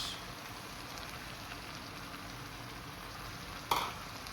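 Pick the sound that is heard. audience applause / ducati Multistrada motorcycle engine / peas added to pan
peas added to pan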